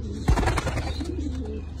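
Young pigeons of a fancy breed coo softly close by, a low throaty note amid a busy loft background with faint chirps.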